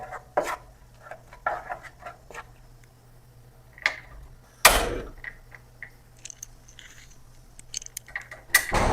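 Stuffed squid frying with turmeric and chilli powder, stirred in the pan: a run of scraping, clinking utensil strokes at an irregular pace over a steady low sizzle-hum, with a couple of sharper knocks standing out.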